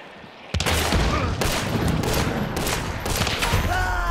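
Heavy, close gunfire in Hunt: Showdown, bursting in loudly after a quiet moment and continuing as dense repeated shots with several sharp booming peaks over about three and a half seconds.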